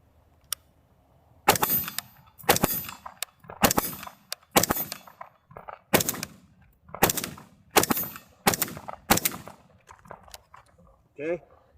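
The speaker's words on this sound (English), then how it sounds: "You'll push your safety to fire, pull the trigger, and that'll release some shots." Eleven sharp AR-15 rifle shots crack out one at a time at an unhurried pace, each loud report ringing briefly across an outdoor range before the next, then a faint voice at the end.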